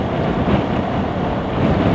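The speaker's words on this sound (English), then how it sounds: "the wind is coming from my front and left now" Wind roars and buffets steadily across the microphone of a BMW R1200 motorcycle rider, a dense broadband rush with slight surges and no voices.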